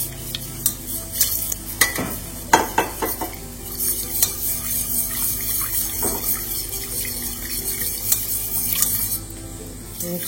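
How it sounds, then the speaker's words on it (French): Béchamel sauce being stirred in a pan as milk is added bit by bit, off the heat after melting butter: scraping utensil strokes against the pan with light liquid sloshing and faint sizzle, irregular and close. "Et on ajoute le lait petit à petit."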